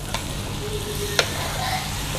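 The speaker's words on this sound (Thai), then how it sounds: "แล้วเราก็ผัดไปเรื่อยๆ จนกว่าเห็ดจะสุก" Mixed mushrooms and pork stir-fried in a pan with water and stir-fry sauce, giving a steady soft sizzle with a couple of sharp utensil clinks against the pan.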